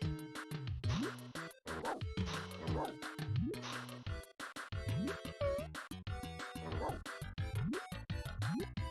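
Barking from Beethoven the dog in a retro SNES/PS1 Beethoven video game comes as repeated synthesized bark bursts in a steady rhythm over game music, loud and close.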